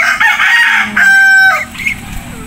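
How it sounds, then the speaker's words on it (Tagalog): A rooster crows once, loud and close, followed by softer clucking from nearby white chickens in a countryside garden. "Daming puting manok, guys."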